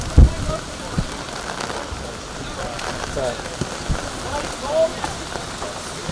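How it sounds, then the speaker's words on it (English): Heavy rain pours steadily during an outdoor high school varsity soccer game, a constant hiss of drops on surfaces with occasional thumps and distant calls across the field. "We are in an actual rainstorm."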